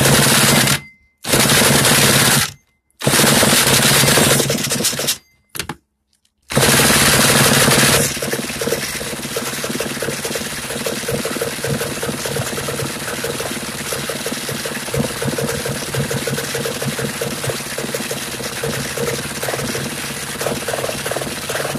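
Small engine on half choke, first several loud sputtering bursts broken by abrupt silences, then catching and running with a rough, rapid, uneven putter that continues steadily to the end.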